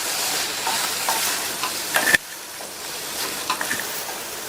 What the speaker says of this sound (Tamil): சேர்த்த இந்த சுரைக்காயை நல்லா மசாலாலேயே ஒரு 2 நிமிஷத்துக்கு நல்லா பெரட்டி விட்டுக்கங்க